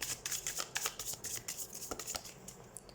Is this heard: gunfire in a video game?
no